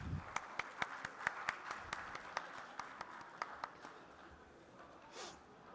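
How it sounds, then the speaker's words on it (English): Scattered clapping from a small group at a conference inauguration, sharp individual claps in a loose rhythm that thins out and fades after a few seconds. "Can we have a big round of applause,"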